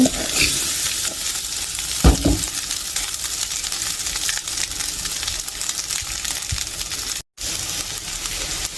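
Rice tipped into a hot pan crackles and sizzles loudly while being stirred, with scraping bursts early on and a brief dropout near the end, no voices.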